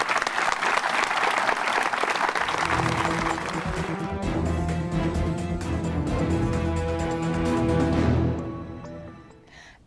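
An audience at a veterans' Purple Heart dedication and medal ceremony breaks into sustained, loud applause that holds for several seconds before tapering off near the end.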